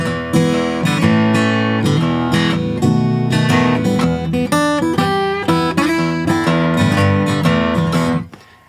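Blues guitar turnaround riff, played as a dense, steady run of picked notes and chords that carries evenly for about eight seconds before stopping abruptly; no voice is heard.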